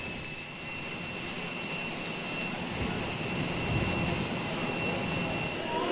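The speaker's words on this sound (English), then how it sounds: "here we are in Nîmes Airport, waiting to board the plane" Jet aircraft engines roar steadily at Nîmes Airport, a continuous broad rumble with a high whine layered on top, loud and sustained with no talk.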